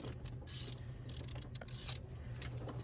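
A ratchet snugs up bolts on the water pump of a 2021 Chevy Suburban, making quick bursts of close, crisp clicking in short repeated strokes with brief pauses between them.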